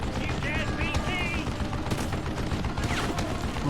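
Gunfire in the Western shooter game Call of Juarez: Gunslinger comes as a dense, continuous fusillade of rapid shots at a loud, steady level, with a voice talking briefly over it.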